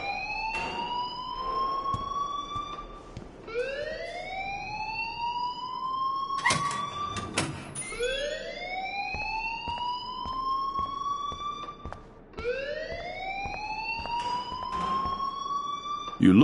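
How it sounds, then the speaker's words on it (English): An alarm in the video game Life Is Strange wails as a repeating rising siren tone, cycling several times at steady loudness, with brief clanks and thuds in between and faint voices in the background. "please turn off that alarm since that's your job"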